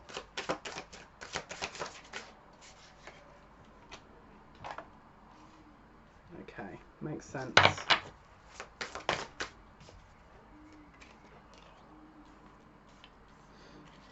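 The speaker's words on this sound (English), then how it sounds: "I'm going to pull some more cards" Tarot cards are pulled, slid and shuffled in quick clicking bursts with pauses between them, close by, and a voice speaks briefly in the middle.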